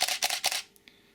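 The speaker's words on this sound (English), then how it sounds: "all you've got to do really is press the shutter button" A Canon EOS 650D/600D DSLR fires a quick burst of shutter clicks, three or four crisp snaps close up, followed by a couple of faint mechanical ticks in a quiet room at night.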